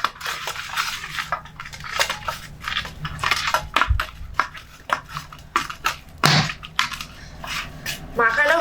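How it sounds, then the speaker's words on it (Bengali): Hands work salt and turmeric powder into pieces of fish head, giving irregular close squelches, rubs and occasional clinks against a bowl in uneven bursts, with a voice faintly present underneath. "আর পরিমাণ মতো হলুদ গুঁড়ো দিয়ে একসঙ্গে খুব ভালো করে মাখিয়ে নিচ্ছি।"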